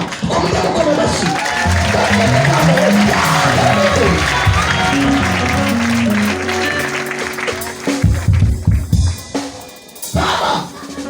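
A large audience at a gathering in Stade Bicumbi, Rwanda, claps and cheers loudly over singing voices, with choppy bursts of clapping and shouts toward the end.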